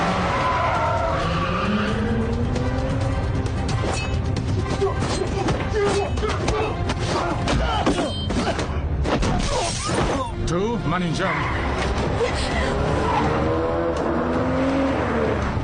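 A film car chase with screeching tire skids, revving engines and a crash of shattering glass, loud and chaotic, while voices shout over the action.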